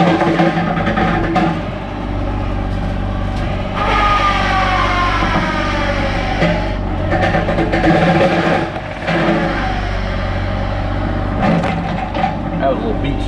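A Rut brush eliminator mounted on a John Deere 35G mini excavator grinds steadily through a tangle of briars, the heavy diesel engine and shredding head churning loudly and continuously with brief changes in load.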